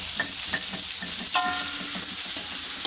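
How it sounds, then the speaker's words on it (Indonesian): Bay leaves and lemongrass sautéing for opor ayam, a steady close sizzle with a few stirring clinks and scrapes of a utensil against the pan, no talking. "Ditumis sampai matang dan harum"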